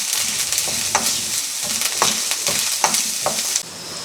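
A colourful Kerala-style vegetable stew sizzles in a pan over medium heat, with a bright, steady frying hiss broken by several distinct scrapes and clinks as it is stirred.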